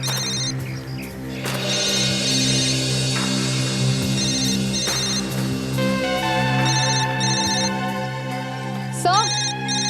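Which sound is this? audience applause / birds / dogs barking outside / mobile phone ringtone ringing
mobile phone ringtone ringing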